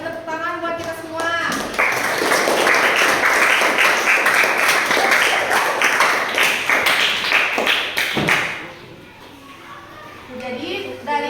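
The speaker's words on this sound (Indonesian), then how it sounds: "Coba beri tepuk tangan buat kita semua." A school class applauds itself, first scattered claps and then a loud, fast burst of many hands lasting several seconds, which fades into children's voices and a teacher talking.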